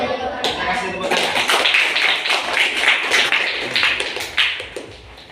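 A school audience claps together in a steady, dense round of applause lasting several seconds, close and fairly loud, with a few voices mixed in.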